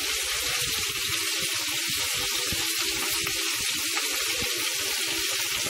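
Shallot hitting a hot frying pan for a smoked chicken and vegetable dish, giving a steady, close, loud sizzle with crackling pops throughout and no talk.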